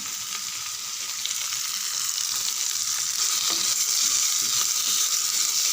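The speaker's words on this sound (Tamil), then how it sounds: "நல்லா வதக்கி விடுங்க 3 நிமிஷம்" Coconut chutney ingredients, including coriander leaves and curry leaves, sauté in a hot pan with a steady, loud, continuous sizzle and crackle and no voices.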